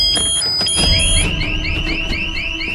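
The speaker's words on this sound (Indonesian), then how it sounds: "dengan alarm keras yang terpasang di rumah ini" A loud house alarm blares in a zombie drama from The Walking Dead, with a repeating rising electronic whoop over dense, rumbling background noise and no clear talk.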